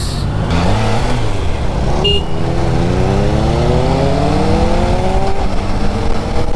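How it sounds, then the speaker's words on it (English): A Triumph motorcycle engine revs hard as the throttle opens, loud and close, its pitch climbing smoothly and continuously through the acceleration. "If you just click on the throttle, oh man, I'm loving this motorcycle"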